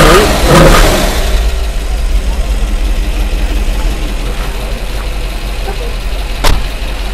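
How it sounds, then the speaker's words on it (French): 1967 Ford Mustang Shelby GT350 engine: a starter crank and catch at the beginning, then a steady low idle rumble continuing evenly, close and moderately loud, with a brief blip near the end. "Démarre-nous ce petit moteur."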